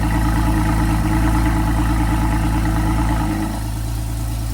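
A Porsche 981 Cayman fitted with a Fi valved exhaust idles with a deep, steady rumble heard close up, its tone dropping slightly partway through as the valve setting changes.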